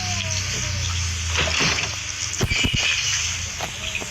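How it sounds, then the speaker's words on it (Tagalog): Water splashes and sloshes during a bath, with irregular bursts of pouring and slapping water against a steady background hum, fairly close. "Maliligo pala ako."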